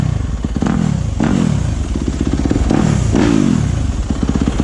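A Yamaha YZ250F dirt bike engine runs very loud and close, rising and falling in repeated revs with a rough, unsilenced exhaust note and some mechanical clatter.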